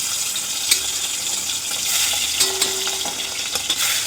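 Food sizzles steadily in a hot pan in a Mumbai home kitchen, a continuous close hiss broken by a few light utensil clicks and stirring sounds, with no talking.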